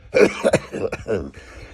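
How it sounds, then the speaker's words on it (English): A short, close cough, followed by a faint rasp of throat clearing. "a little cough, got that on the hand"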